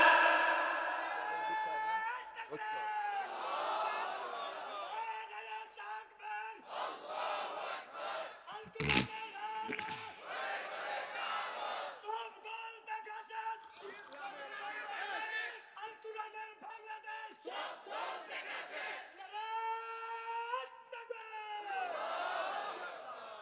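A crowd at an Islamic religious gathering (waz mahfil) in Dawoodkandi roars slogans in loud collective bursts, alternating with a preacher's voice leading them through a microphone.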